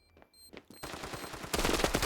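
Rapid automatic gunfire from the video game Standoff 2 starts after a quiet, sparse opening and grows into dense, loud bursts of shots that intensify toward the end.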